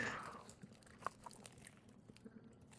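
Quiet, crisp crunches and small snapping bites come from someone eating a crunchy grilled shawarma, with irregular soft chewing sounds close to the listener.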